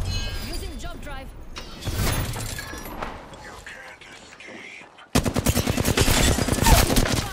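Rapid gunfire in the battle-royale game Apex Legends: scattered shots under game voice lines, then a loud, dense run of fast automatic bursts near the end.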